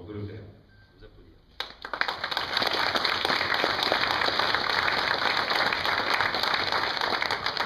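An audience at a November 11 ceremony in Biganos bursts into sustained applause after a brief quiet moment, dense steady clapping from many hands close by, continuing evenly to the end; a voice is heard briefly before the clapping starts.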